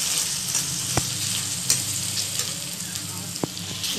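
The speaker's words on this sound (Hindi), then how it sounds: "हम मंगोड़ी भी डाल देंगे। ये सबको हमें अच्छा से भूनना है।" Mangodi, moong dal dumplings, frying in a pan with small potatoes, a loud continuous close-up sizzle broken by a few sharp stirring clicks.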